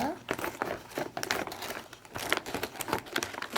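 Close crinkling and rustling of a plastic dog food bag being cut open with scissors, a steady run of crackly handling noise with a voice talking.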